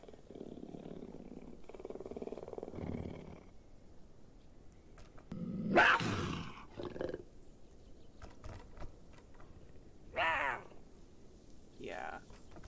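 Adult cougar calls from a Path of Titans video game mod, a few rough growling roars and purring rumbles spaced apart at moderate volume, with quieter mechanical clicks between them.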